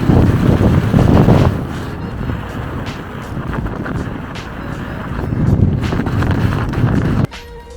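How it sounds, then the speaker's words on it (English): Strong wind roars and buffets the microphone in heavy gusts during a bike ride through snowy weather, rising and falling with low rumbling bursts, then cuts off abruptly near the end. "It was windy and snowy and really slippery."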